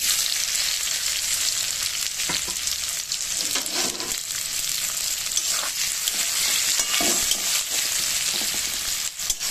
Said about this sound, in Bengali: পেঁয়াজটাকে তেলে ভালো করে ভেজে নেব।